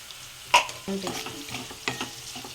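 Green chilies and cumin seeds frying in hot oil, with stirring scrapes and a soft sizzle; a sharp clink of a utensil against the pan near the start, then steady close stirring.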